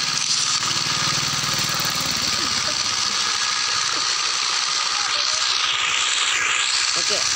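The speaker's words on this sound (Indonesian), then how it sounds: "tadi suara motor lewat itu ribut banget" A loud engine drones steadily throughout with a rattling, buzzy roar, like a motorcycle passing close by, with faint voices underneath.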